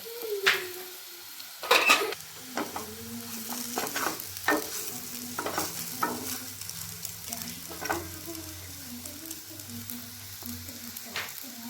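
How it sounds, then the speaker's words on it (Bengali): Chushi, small hand-rolled dough pieces, fry gently in hot ghee in a wok over low heat, giving a soft steady sizzle broken by stirring scrapes and occasional metallic clinks of a spatula. "আমি যে চষিগুলোকে তৈরি করে রেখেছিলাম সেগুলোকে এখন আমি এই ঘিয়ের মধ্যে দিয়ে হালকা আঁচে ভেজে নেব।"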